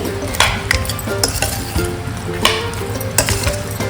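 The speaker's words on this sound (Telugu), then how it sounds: "ఇప్పుడు ఈ పౌడర్ కూడా వేసేసుకుందాం ఇవన్నీ కూడా మంచిగా మిక్స్ చేసుకుందామండి" Mango pickle being mixed with ground mustard and fenugreek powder in a metal vessel, giving steady stirring and scraping with sharp clinks of a spoon against the pot, loud and close, with no talking.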